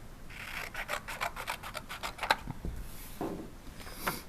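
Scissors snip through a paper puzzle piece in a quick series of close, crisp cuts, then a couple of softer snips and rustles, all quiet and without talk.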